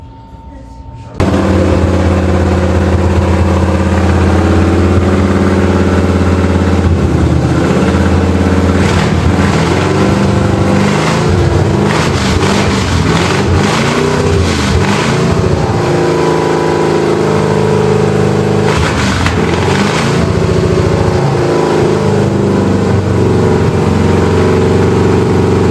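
A 1971 Oldsmobile Cutlass Supreme V8 firing up on its first start attempt and running loud and rough, a sharp catch after about a second giving way to a sustained heavy rumble with surging revs.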